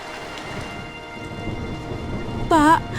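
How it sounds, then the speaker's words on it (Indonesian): Heavy rain pours down in a dense, steady roar with deep rumbling thunder underneath, and a short voice-like sound near the end. "ini hujan apaan, Pak? Kok kayaknya deres banget?"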